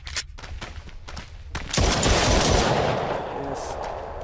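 Automatic gunfire rattles in the VR zombie shooter The Brookhaven Experiment, first as short bursts, then a loud sustained volley with a lingering roar, near and dominant.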